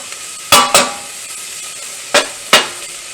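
Potato soup ingredients for caldo verde are stirred in a pot, the spoon striking the metal in four sharp, close clanks that come in two pairs with a quiet pause between them.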